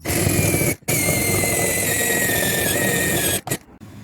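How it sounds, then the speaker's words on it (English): A power drill whines steadily while boring 3/8-inch holes in a trailer for a spare tire mount bracket, loud and close, with a short pause and a brief restart near the end. "we have to drill out two 3/8 holes for the bottom of the mounting bracket."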